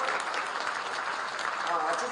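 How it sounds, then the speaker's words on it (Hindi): Audience clapping at a Hindi-language gathering, with dense, steady applause that holds at an even level throughout without pause. "जोरदार तालियों से अभिनंदन करो"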